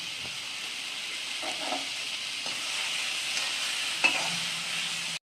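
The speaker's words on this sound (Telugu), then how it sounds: "వంకాయలు టమాటాలు ఫ్రై చేసుకోవాలి" Steady oil sizzle from eggplant and tomato frying in a pan, with occasional soft scraping as they are stirred.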